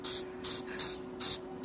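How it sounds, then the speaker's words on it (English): Spray can hissing in four short bursts with brief gaps between them, applying paint to freshly refurbished muffler and mount parts for a John Deere mower, close and fairly loud with no talking. "Oh, spray painting?"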